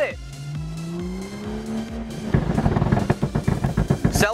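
Modified BMW F30 335 with a Pure Stage 2 upgrade lets out a run of sharp, rapid exhaust burbles and pops after a drag run, following a steadier engine drone, loud and close.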